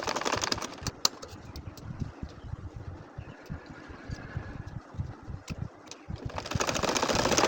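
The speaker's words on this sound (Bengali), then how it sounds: "বাঁকা করে করে আমি সেলাইটা করে নিচ্ছি।" A domestic sewing machine stitches curved lines across a baby quilt with doubled thread, its motor running in a steady fast whir with brief pauses and restarts, close and moderately loud with no voices.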